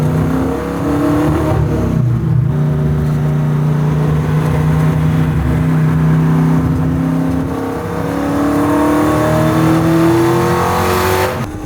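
The 750-horsepower naturally aspirated engine of a Roadster Shop Road Rage Camaro revs loud and close, rising and falling in pitch with a strong, steady drone and no talk.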